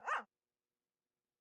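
A single short bark from Toby the dog in the Great Ace Attorney video game, loud and close, followed by silence.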